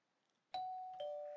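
A doorbell chimes in the Collar X Malice video game, two clear ringing tones a half-second apart, loud and isolated against silence.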